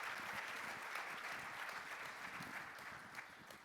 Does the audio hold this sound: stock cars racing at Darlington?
no